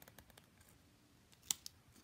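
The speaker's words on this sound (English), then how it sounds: "Take your scissors" Scissors make a few faint, quick snips and clicks while cutting for a Halloween craft, with two sharper cuts near the end.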